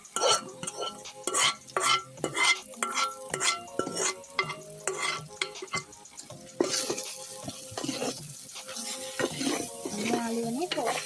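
Pork meat tossed into a hot pan for a Sri Lankan pig curry, sizzling and frying steadily while a utensil scrapes and stirs in repeated close strokes.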